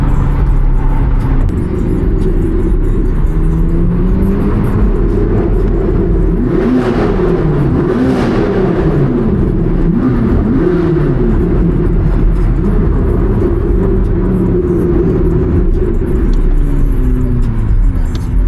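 Exhaust of a 1064 hp Corvette C8 ZR1 during hard pulls at night in downtown Chicago, a loud continuous engine drone heard from inside the car, with pitch sweeping up and down through gear changes.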